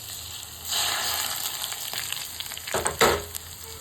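Garlic and green onion hit hot oil in a pan for spicy potato noodles, a close crackling sizzle that swells as the pieces land and bursts louder with stirring near the end.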